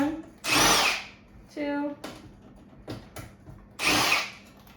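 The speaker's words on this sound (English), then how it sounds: "There's another set of screws in here, so I'm going to take those off real quick for you." Cordless power driver removing screws from a Smeg toaster whirs in several short bursts separated by pauses, close and loud, while a person counts aloud between runs.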